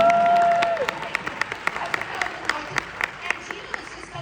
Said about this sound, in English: I'll wait for applause.